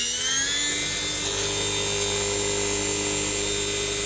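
A slot car electric motor running at 10 volts gives a steady, loud, high-pitched whine that holds even and smooth throughout without pause.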